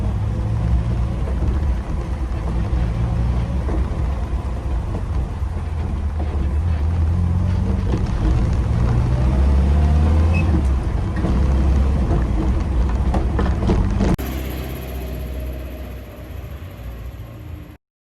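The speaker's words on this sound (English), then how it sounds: "straight cut gear change again. So distinctively Morris Minor." A 1967 Morris Minor Traveller drives along with a steady low engine rumble and road noise, shifting through its straight-cut gears before the sound drops away sharply near the end; no talking.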